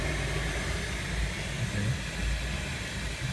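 An automatic car wash machine scrubbing and spraying a car, heard from inside the vehicle as a steady, loud broadband rush of water and brushes with low rumbling, continuous without speech.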